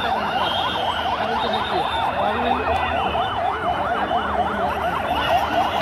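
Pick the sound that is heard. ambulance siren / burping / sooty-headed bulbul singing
ambulance siren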